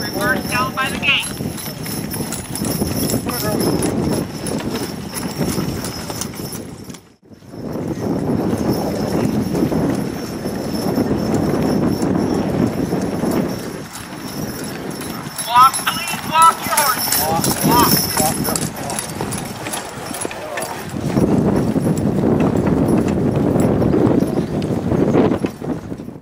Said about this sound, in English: Walk, please walk your horse.